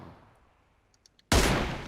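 Gunfire in the PUBG Mobile video game: a few faint distant shots, then one sudden loud close blast that stays loud to the end.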